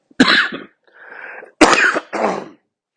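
Four bursts of coughing separated by short pauses, the first and third sharp and loud, the others rougher and throat-clearing, close to the listener with no talk.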